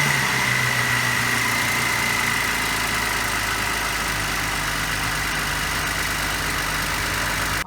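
A 2008 BMW 535i engine runs at a steady idle, with a continuous low mechanical hum and a faint whine. It is close and fairly loud, with no talking, and the sound cuts off at the very end.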